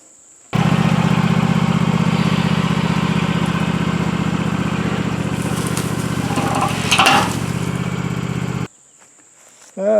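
A tractor engine drones loud and close at a steady idle-like throb while pulling roots in a yard, cutting off abruptly near the end.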